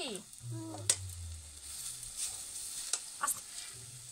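Carrots sizzle in a hot wok while sugar goes in and a spoon stirs, giving a soft steady frying hiss with a few scraping clicks, faint and close, and no talk.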